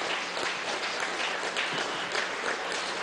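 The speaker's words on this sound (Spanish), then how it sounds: "Un aplauso para María Gabriela." A crowd at a political event in Venezuela gives an ambassador a round of applause, a dense, even wash of clapping at moderate distance that holds steady without pause.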